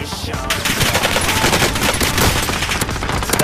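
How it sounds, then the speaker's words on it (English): Rapid automatic gunfire from the video game Warzone, dense and continuous bursts filling the whole stretch, loud and close with no talk over it. "He's shooting at me."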